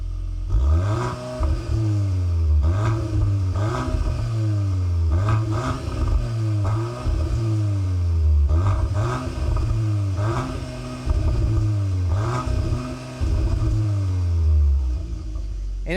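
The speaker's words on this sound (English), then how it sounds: "this is the standard exhaust, so let's go ahead and fire it up" A 2025 Volkswagen Golf R Black Edition with the standard exhaust revs repeatedly in a steady rhythm, deep exhaust rising and falling with each throttle blip, loud and close.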